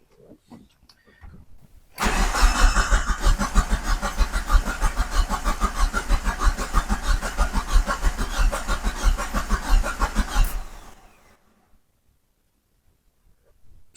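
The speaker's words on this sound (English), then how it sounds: "Still doesn't start." A Mitsubishi Eclipse Spyder that has sat for years, likely with a failing fuel pump, cranks for about eight seconds with a fast rhythmic churning starter sound, loud and close, then stops without the engine catching.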